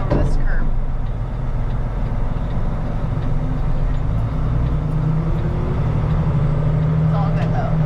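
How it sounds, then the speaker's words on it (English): A Kenworth T880 super dump truck towing an equipment trailer rumbles steadily over a curb, a continuous low engine and chassis drone with faint rattles, close and even throughout. "I gotta drive over this curb."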